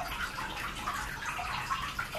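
Water splashes and trickles steadily in a homemade garden fountain, a soft continuous babble with small bright plinks, heard alone at moderate distance.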